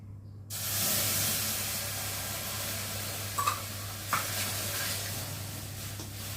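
Packet milk poured into semolina halwa frying in a pan bursts into a loud, steady sizzle and steamy hiss that holds on, with a couple of brief scrapes from stirring.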